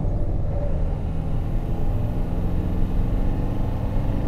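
A lifted Land Rover Defender 110 with a 300 TDi diesel drives a twisty country road, its engine giving a steady, loud, low rumble with road and cabin noise and no talking.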